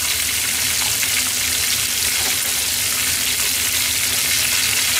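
Flounder karaage deep-frying in hot oil, a steady dense sizzle and crackle that fills the clip evenly from start to end, close and fairly loud with no talk.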